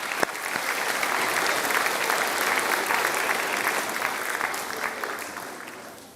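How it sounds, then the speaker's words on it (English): A school quiz team final at the Scottish Parliament closes with a large audience applauding steadily and loudly, dense continuous clapping that holds level throughout with a faint murmur of the crowd underneath. "I think you all deserve to give yourselves a big round of applause."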